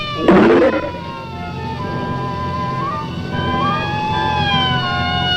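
A police siren wails with rising and falling tones, sustained and fairly loud, after a brief burst of noise at the start.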